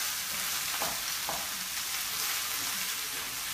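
Butter sizzles among potatoes in a hot frying pan, a steady, dense crackle that fills the whole clip. A couple of faint stirring knocks sound near the start, and no one talks.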